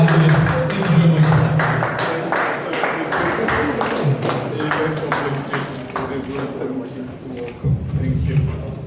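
An audience at an event welcomes a speaker with rhythmic clapping, the claps running steadily while a voice talks over them.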